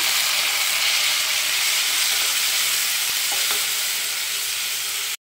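Tomatoes drop into potatoes frying in a pan, giving a steady, loud hiss and sizzle with a few soft stirring knocks near the end.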